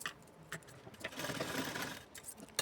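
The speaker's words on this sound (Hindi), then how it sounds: "गोल राउंड सिलाई लगा देंगे।" A sewing machine stitches a round neckline on a small blouse, heard as fairly faint, quick bursts of mechanical whirring broken by short pauses.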